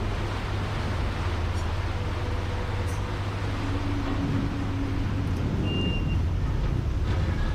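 Twin-engine air-conditioned Riva Express boat on the Chao Phraya run between Sathorn and Nonthaburi, speeding through water with a steady, loud low engine drone and rushing wash throughout, no talking.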